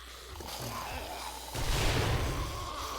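Grenades go off in the video game 7 Days To Die, a booming blast rising midway and rumbling on under a steady background hum, with no voices.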